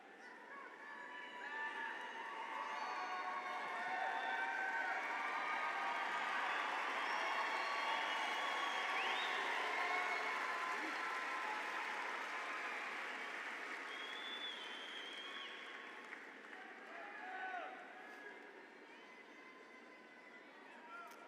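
Commencement ceremony crowd cheering and applauding, a broad sustained roar of clapping and voices filling a large hall, rising early and holding steady before slowly tapering off near the end.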